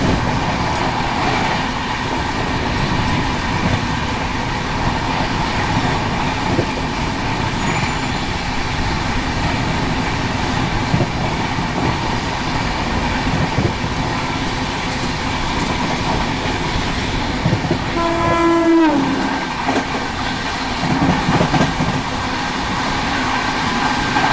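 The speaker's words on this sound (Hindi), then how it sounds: "चलो अभी फिलहाल तो क्रॉसिंग दिखाते हैं बिहार संपर्क क्रांति से।" A passing Bihar Sampark Kranti Express roars by at a crossing, heard from aboard a moving train, with a continuous loud rumble and clatter of wheels and a brief squeal midway through.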